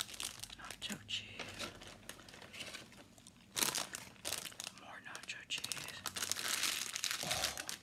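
An empty Doritos chip bag crinkled and crumpled close up in a quiet ASMR setting, with irregular crackling bursts and soft whispered talk throughout.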